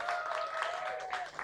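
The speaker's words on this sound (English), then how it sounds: "Now let's give them a clap as they take their seats." A church congregation claps during an Easter Sunday service, a brief burst of applause with a tonal whistle-like sound running beneath it.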